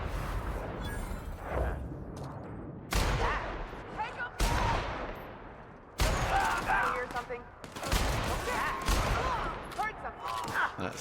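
Several loud gunshots ring out in the video game The Outer Worlds while taking out a sniper, sharp blasts spaced a second or two apart with echoing tails, a voice speaking between them.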